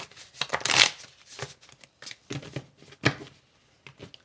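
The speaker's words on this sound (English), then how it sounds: "I'm just going to shuffle and then do a psychic hand for my Spiritual AF" An oracle card deck is shuffled by hand in a series of quick, papery riffles and soft slaps, irregular bursts with short pauses between, close and fairly quiet, without talk.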